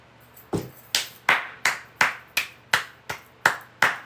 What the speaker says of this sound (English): Clapping for the women who know when to say no